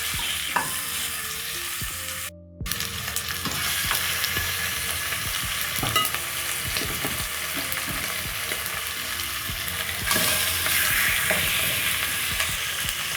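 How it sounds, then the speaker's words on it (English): Beef shanks for osso buco searing in a smoking-hot Dutch oven, a steady loud sizzle with occasional scraping and clatter, one brief dropout near the start, no voices. "once the pot is very hot, I'm going to let my meat sear"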